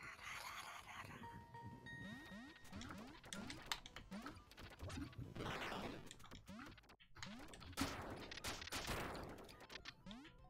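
Rapid synthetic gunshots ring out in a Duck Hunt-style video game, quick bursts of cracks mixed with electronic game tones and beeps, fairly faint, with brief voices in the background.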